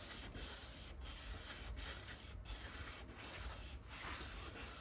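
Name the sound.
wet sanding a turntable dust cover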